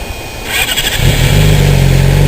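A 2006 Yamaha YZF-R6 sport bike with an aftermarket exhaust fires up nearby, a brief starter whir giving way to a steady, throaty idle that holds loud and even to the end.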